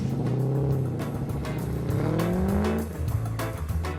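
A yellow car roars away with rising engine revs and squealing tires, loud and close, the pitch climbing steadily as it accelerates.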